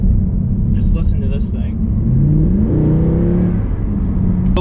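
A 2012 Mercedes-Benz C63 AMG Edition 1 coupe's exhaust revs and winds up in rising, rumbling sweeps heard from inside the car, with a person talking over the engine.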